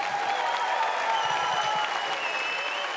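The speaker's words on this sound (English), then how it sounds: "Can we get a round of applause, please?" A crowd at a Fortnite esports tournament claps steadily and evenly throughout, with a few faint whistles and cheers mixed into the sustained applause.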